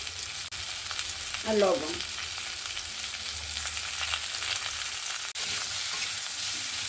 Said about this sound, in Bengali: কাঁচকলা, পেঁপে, সজনে ডাঁটা, আলু দিয়ে ভালো করে একটু ভেজে নেব।